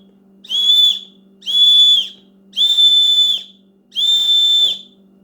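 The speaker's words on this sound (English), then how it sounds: "I'll just test the whistle out so you guys can hear what the whistle sounds like" Four loud, shrill whistle blasts from a plastic survival whistle, each about a second long, evenly spaced with short pauses between them.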